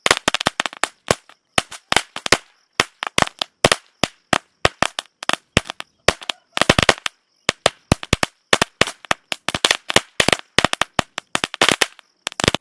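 A Sivakasi firecracker string goes off in a rapid, irregular burst of sharp loud cracks, dozens of pops clustered together in the manner of a thousand-wala, heard alone without talk.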